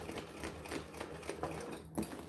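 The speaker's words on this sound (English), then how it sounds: "We are top stitching right now." A sewing machine top stitching thick glow-in-the-dark vinyl for a bag, a quiet rapid mechanical patter of needle strokes in a steady rhythm, close but low in level, with no talking.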